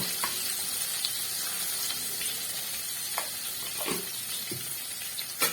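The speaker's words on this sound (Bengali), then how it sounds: "ডিমগুলোকে আমি এবার ভালো করে ভেজে নেব" Eggs frying in oil seasoned with turmeric, chili powder and salt, a continuous close sizzle and spatter with a few soft clinks of stirring, no talking.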